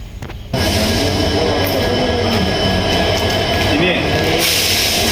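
A Castle Rock train rolls in near Dudhsagar waterfall with a loud, steady rumble and faint wheel squeal, the noise starting abruptly and holding constant throughout.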